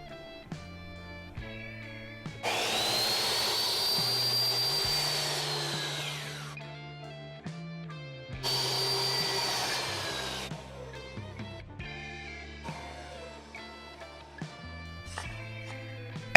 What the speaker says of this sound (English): So I'm going to be using the miter saw.